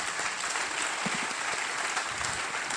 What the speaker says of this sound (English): I want us to give our panelists a beautiful round of applause.